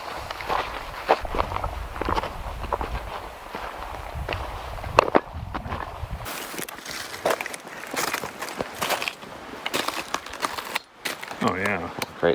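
Footsteps crunch steadily along a dirt trail leading down to a river on an overland Jeep camping trip, close and continuous with some scuffs and brush sounds, and speech can be heard intermittently.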